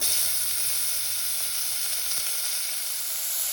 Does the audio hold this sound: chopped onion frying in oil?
yes